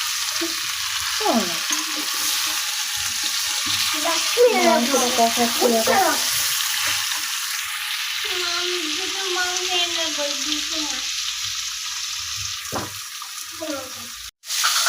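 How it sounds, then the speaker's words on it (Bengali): Potatoes frying in a pan, a steady loud sizzle running throughout with occasional stirring scrapes, while a voice speaks intermittently over the cooking. "আলুগুলো ভেজে নিয়ে আসছি"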